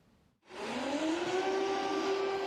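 An air raid siren sounds over Kyiv on New Year's Eve. It starts abruptly, rises in pitch and then holds a loud, steady wail with no talk.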